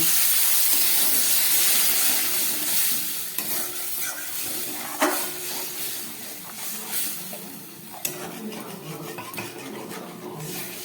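Water hits a hot frying spice paste for fish curry, a loud hissing sizzle and steam that gradually settles, with a few sharp clinks of a spoon against the pot near the middle and end.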